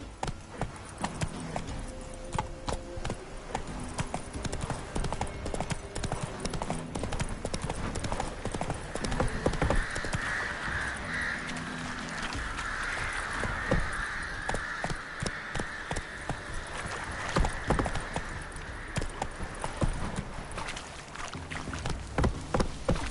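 Roach, the horse in The Witcher 3, gallops in a steady rapid clip-clop of hooves that runs the whole time, with a brief spoken line and background game ambience mixed in.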